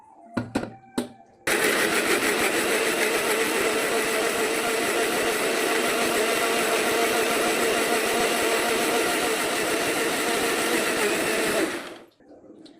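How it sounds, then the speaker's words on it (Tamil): Mixer grinder grinding tomatoes: after a few clicks and knocks, the motor starts with a loud, steady high-pitched whir that runs about ten seconds, then winds down and stops. "மேலே இருக்கிற தக்காளியில் போட்டு நல்லா அரைச்சி எடுத்துக்குவோம்."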